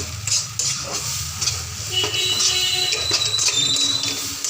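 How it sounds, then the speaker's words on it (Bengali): Mashed green banana peel paste being stirred in a hot pan to dry out, giving a steady loud sizzle with continuous scraping of a spoon against the pan, close and without speech. "এটাকে ভালো করে নাড়াচাড়া করে এটার জল একদম শুকিয়ে ফেলবেন"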